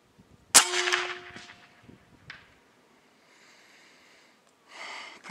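A Benjamin Bulldog air rifle fires one sharp, loud shot with a quick ringing tail, followed by a brief clank and faint outdoor background; no speech.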